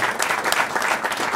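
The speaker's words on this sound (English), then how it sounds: "Let's give him another big round of applause." Steady applause from a lecture audience at Princeton University, dense continuous clapping filling the whole moment at a moderate, even level.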